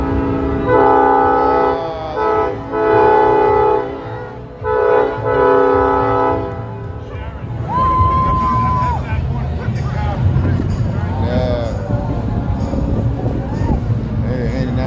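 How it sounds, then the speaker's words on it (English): A Canadian National parade train at a Chicago holiday street parade sounds its horn, a few loud sustained blasts over crowd noise, then steady blaring tones and babble as spectators talk and cheer nearby. "Yeah, you blow the horn."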